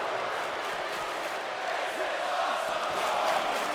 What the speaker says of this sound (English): This is awesome chants from the crowd.